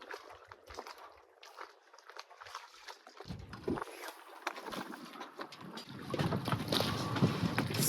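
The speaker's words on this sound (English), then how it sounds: "This is my very first solo sail." A sailboat under way on a solo sail, with steady wind rushing across the microphone and water washing along the hull, growing louder and fuller toward the end.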